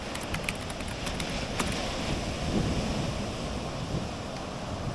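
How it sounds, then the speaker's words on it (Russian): Sea waves washing onto the city beach at Phan Thiet, Vietnam, a steady broad rush of surf with wind buffeting the microphone, continuous and moderately loud with no speech. "городской пляж Фонтьеты не сказать, что сильно подходит для купания, потому что здесь часто волны"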